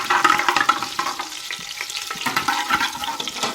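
Ingredients for desi chicken shorba sauté in a hot pan, giving a steady, close sizzle with bubbling and stirring texture over a few seconds.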